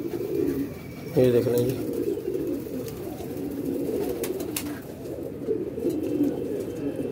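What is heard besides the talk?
pigeons cooing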